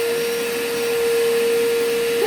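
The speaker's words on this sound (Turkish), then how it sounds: "evet Yusuf hadi şimdi süpürge makinesini çalıştır." A household vacuum cleaner runs indoors at home with a loud, steady motor whine and a constant airy roar, unbroken throughout and with no voices.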